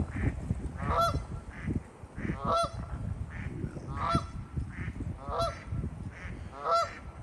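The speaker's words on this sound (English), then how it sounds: "I heard a duck." A duck calls from a lake at East Brimfield in southern New England, with about six evenly spaced nasal honks repeating roughly every second, fairly faint and distant over a soft outdoor background.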